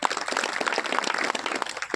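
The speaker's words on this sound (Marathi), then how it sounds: "एकदा जोरदार टाळ्या वाजवा" Dense crowd applause at a kirtan memorial gathering, many hands clapping steadily with no talking over it.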